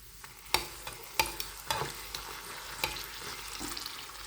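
Chillies fry in hot oil over a lowered flame, a soft steady sizzle punctuated by several sharp clinks and scrapes of a spoon stirring in the pan, quiet and close.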